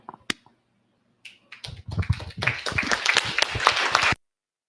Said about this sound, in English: you are faster than me and applauding him